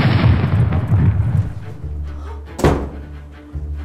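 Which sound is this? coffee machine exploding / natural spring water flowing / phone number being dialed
coffee machine exploding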